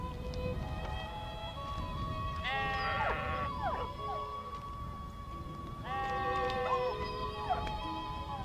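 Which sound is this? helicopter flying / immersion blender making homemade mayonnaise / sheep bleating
sheep bleating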